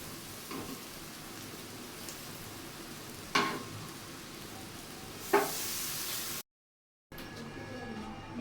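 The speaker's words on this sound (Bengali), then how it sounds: "ডিমের সঙ্গে মশলাটা এইভাবেই ভেজে নিতে হবে" A spice masala sizzles with egg in a hot pan for a dhaba-style tadka, a steady close frying hiss broken by a few sharp stirring scrapes before a brief dropout.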